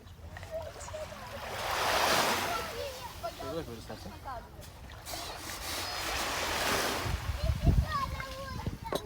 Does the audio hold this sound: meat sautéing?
no